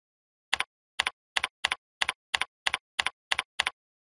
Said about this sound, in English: type in Weekly Review as your workspace URL